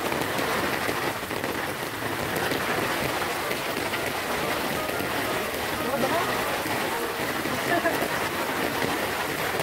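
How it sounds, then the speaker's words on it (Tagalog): Heavy rain pours steadily over Dubai, a dense continuous hiss of drops on surfaces, close and loud throughout, with occasional voices talking beneath it. "Lakas ng ulan."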